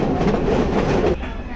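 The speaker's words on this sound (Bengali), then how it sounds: "ট্রেন বেশ স্লো হয়ে যাচ্ছে।" A commuter train slows on the approach to the Radhikapur border station, a loud, close rumble of wheels and carriages that drops off suddenly near the end.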